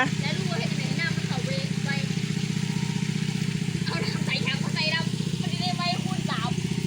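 A small engine driving a water pump runs at a steady, even idle, a constant mid-pitched throb with faint clatter, while people chat nearby in the background.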